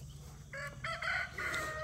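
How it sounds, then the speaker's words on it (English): Homestead chickens gathered at a watering spot cluck and call in a few short bursts close by over a low steady hum. "Chickens at the watering hole."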